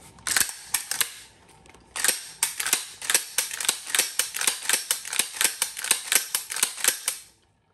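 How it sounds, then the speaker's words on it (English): A Canuck Commander 12-gauge pump shotgun is racked over and over, producing a loud, close series of sharp mechanical clack-clack strokes in a quick, steady rhythm, about twenty in all, with no voices. "So just keep racking it over and over, and it'll help you get familiar"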